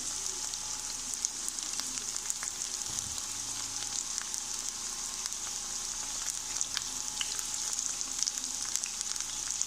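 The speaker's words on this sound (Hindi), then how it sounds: "तो 3 मिनट प्याज को भी हम फ्राई कर लेंगे" Chopped onions frying in a pan for Multani bhindi, a steady soft sizzle with fine crackling pops running throughout, no voices.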